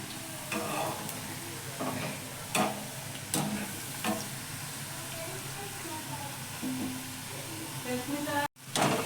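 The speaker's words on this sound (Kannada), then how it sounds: "ಚೆನ್ನಾಗಿ ಗೋಲ್ಡನ್ ಬ್ರೌನ್ ಬರೋ ಚೆನ್ನಾಗಿ ಕರಿಬೇಕು ಎಣ್ಣೆಯಲ್ಲಿ" French fries deep-fry in hot oil with a steady bubbling sizzle and a few sharp knocks and clicks, while a voice talks quietly in the background.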